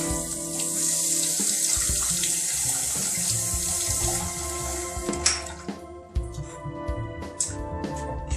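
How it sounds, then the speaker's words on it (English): Tap water runs steadily into a cooking pot for several seconds, a bright hissing stream, followed by a few metallic clinks and knocks of the pot as the flow stops. "We're gonna add a little water to this."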